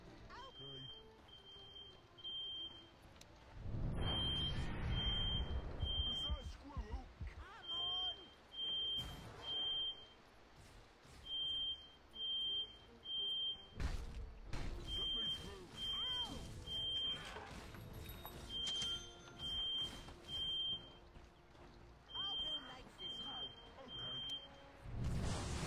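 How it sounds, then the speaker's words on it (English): A high, piercing electronic alarm beeps in repeated bursts of short chirps across a room, regular on-off pulses running through most of the stretch, with someone talking and game sounds underneath. "sorry if you're hearing that beeping right now. For some reason, one of the things is going off"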